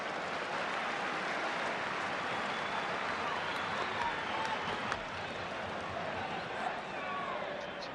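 A football crowd at Upton Park watches West Ham United play Bolton Wanderers in 1980. A dense, steady roar and applause from the terraces fills the stands at an even level throughout.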